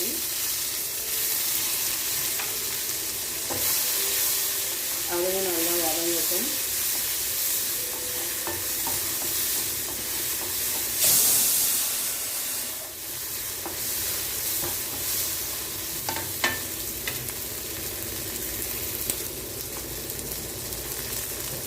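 Shallots and tomato sauté in a pan, with a steady loud sizzle and repeated stirring scrapes throughout, no voices.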